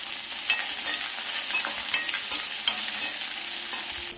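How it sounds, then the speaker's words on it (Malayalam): Shallots sautéing with curry leaves in a pan for a Kerala okra tamarind curry, giving a steady high sizzle broken by scattered scrapes and stirring knocks, close and moderately loud, with no voices. "ഈ ചെറിയ ഉള്ളി ചേർത്ത് കൊടുക്കാം എന്നിട്ടൊന്ന് വഴറ്റണം"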